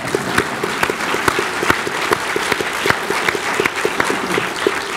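Audience applause at a museum talk, sustained and fairly loud, with individual claps standing out in an uneven rhythm over a dense, steady clatter from the crowd.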